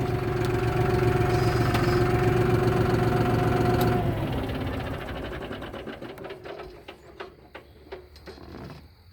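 A tractor engine idles with a steady, loud rhythmic chug that softens and turns uneven after a few seconds, slowing into irregular putters.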